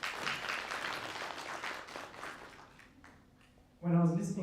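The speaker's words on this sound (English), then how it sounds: "Let's clap for her again." An audience at a climate change reporting workshop claps, loud at first and then thinning out, while a voice starts speaking near the end.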